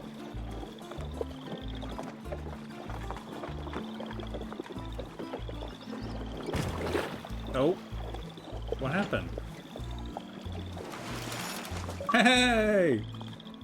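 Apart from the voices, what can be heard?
wagon and ox fording a river in video game The Oregon Trail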